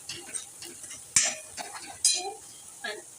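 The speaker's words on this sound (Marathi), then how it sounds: "कांदा चांगला परतून घ्यायचा आहे इथे आपल्याला" Onion and spices sautéing in a pan for Nashik-style misal pav, a quiet sizzle with spoon stirs and scrapes and a few sharp clinks of the spoon against the pan, close by with no talking.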